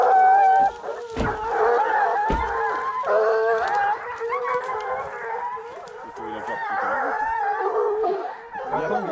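A pack of hunting hounds bays on a wild boar in the snow, long overlapping howling cries, steady and fairly close, with a couple of sharp knocks early on.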